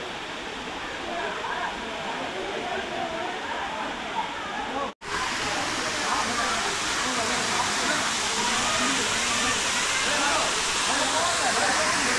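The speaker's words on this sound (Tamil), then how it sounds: "அங்கே ஊற்றுற தண்ணி தாங்க இது வழியாக வந்து கீழே போகுது." A loud, steady rush of water falling at Jalagamparai waterfalls in Tamil Nadu roars continuously close by, with one brief dropout midway before the torrent resumes.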